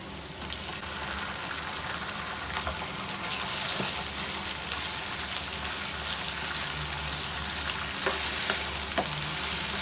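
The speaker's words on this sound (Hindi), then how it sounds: "एक से 2 मिनट तक चिकन को फ्राई करेंगे।" Chicken frying in a karahi for a spicy chicken karahi, a steady close sizzle with crackles and the odd spoon stir, continuous with no talk.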